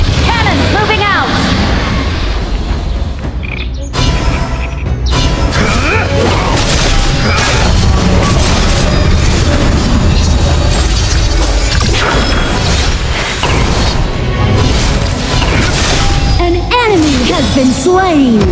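Honor of Kings battle audio: loud, continuous crashes, booms and impact effects as cannons and turrets are destroyed, layered under an announcer voice and game effects throughout.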